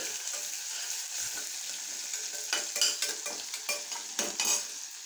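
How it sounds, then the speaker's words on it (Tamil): Ginger garlic paste sizzles and crackles in hot oil while a spoon stirs and scrapes the pan, with occasional sharper clinks; steady close frying, no talking. "நம்ம எடுத்து வச்ச இஞ்சி பூண்டு பேஸ்ட்டு கறியாமல் இப்படி நல்லா வதக்கணும்"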